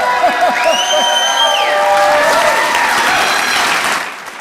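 Energetic audience applause at a mayoral debate in Medford, a dense, loud, steady clatter of clapping from a large crowd lasting several seconds before tapering off, with a few whistles and cheers rising above it.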